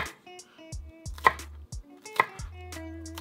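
A knife chops the white parts of an onion on a cutting board for a Final Fantasy XIV cookbook recipe, giving a quick run of crisp, close, irregular taps over soft tonal background music.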